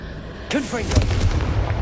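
A Confringo fire blast spell in the Hogwarts Legacy video game bursts out suddenly after a brief quiet, a loud booming explosion that trails into a rumbling, crackling roar.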